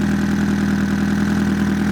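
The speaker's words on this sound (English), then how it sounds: "I went to go start the car, you hear it in the background" A Honda CB450 engine idles steadily in a garage, a loud, even low rumble with a regular pulsing beat and no clacking, running alone without talk.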